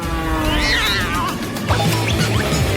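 A cat meows loudly and close by, giving a few drawn-out, rising and falling cries in quick succession.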